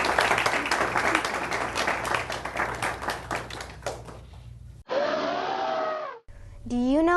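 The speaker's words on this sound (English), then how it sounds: "Let's give a round of applause for Dr." Studio audience applause on a community interview show, a dense clatter of clapping for about four seconds that fades out, followed by brief electronic musical tones.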